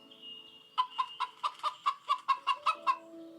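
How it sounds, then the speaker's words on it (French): A hen clucks in a quick, even series of about a dozen short, clear clucks, close by on a farm, with a faint tone sounding behind. "C'est Maman Poule."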